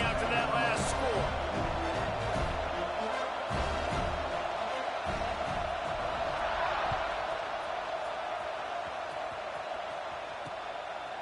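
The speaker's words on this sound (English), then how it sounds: "this crowd is buzzing after that last score" A stadium crowd buzzes in the College Football 26 video game, a loud continuous roar that slowly eases, heard under a play-by-play commentator's voice.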